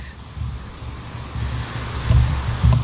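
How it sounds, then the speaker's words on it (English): A waterfall roars steadily close by in a continuous broadband wash of rushing water, with gusty wind buffeting the microphone. "I'm going to show you guys this uh, waterfall, you guys."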